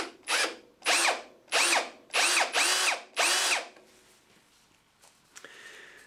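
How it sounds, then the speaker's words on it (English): An electric drill running in reverse to remove a stripped screw whirs in five short bursts with brief pauses between, close by, then falls quiet with a few faint clicks. "I've got the drill in reverse. I'm now going to apply pressure and squeeze the trigger."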